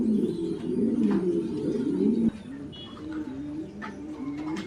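Mondain pigeons with their chicks in a pigeon loft, cooing continuously and fairly close, a low rolling coo that drops briefly in strength midway and then carries on, with faint chirps and shuffling behind.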